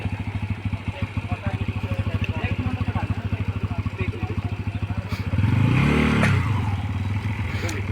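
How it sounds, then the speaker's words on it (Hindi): Motorcycle engine chugs with a steady rapid putter on a blocked village road as villagers help push it through, then revs louder and rises in pitch, with voices in the background. "इनका सहयोग कर रहे हैं मोटरसाइकिल निकालने के लिए कि किस तरह मोटरसाइकिल तो निकल जाए"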